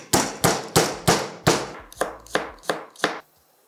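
A knife chops onions and garlic on a cutting board in ten sharp, evenly spaced strokes, loud and close, with no talk.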